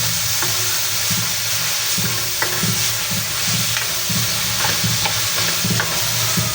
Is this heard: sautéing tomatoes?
yes